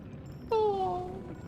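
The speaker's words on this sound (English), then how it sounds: "The cat!" In the Lies of P game, a small cat gives a single short, clear meow over a soft, steady ambient background.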